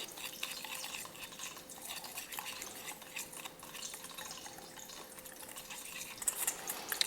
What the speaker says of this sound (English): we're going to whisk this together real quick